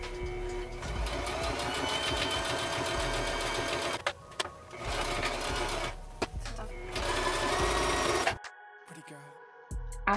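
A sewing machine stitching together the skirt piece of a ribbed corset dress, fast rhythmic whirring runs interrupted by short pauses, close and clear, ending with a few brief mechanical clicks.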